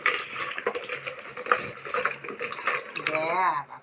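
Potatoes washed together under running water in a kitchen, a steady splashing flow heard close by while someone talks over it.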